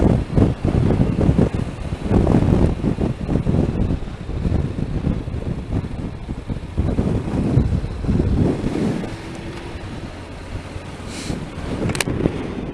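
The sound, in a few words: strong wind blowing at a campsite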